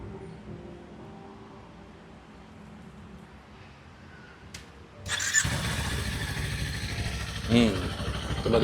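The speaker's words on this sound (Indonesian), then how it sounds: "Kita coba hidupkan mesinnya." Halfway through, a Kawasaki KLE 500 motorcycle engine fires up after a quiet, low background, then settles into a loud, close, steady idle with a brief rev near the end. Someone talks during the quiet part.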